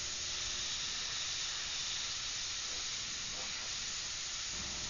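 An airbrush sprays paint in a steady, soft continuous hiss, close and even throughout with no voices.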